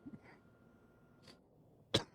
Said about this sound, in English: I woke up with a cough